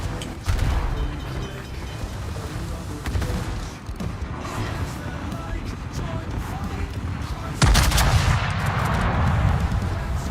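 Warship guns firing at an enemy destroyer in a naval video game, heavy booming shots over a rumbling background, with a louder blast late on and someone talking throughout.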